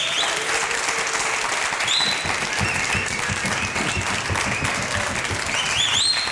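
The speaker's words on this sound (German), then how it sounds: "Applaus" A television studio audience claps in a dense, even burst of applause that continues at a constant level, with a few faint whistles and no speech over it.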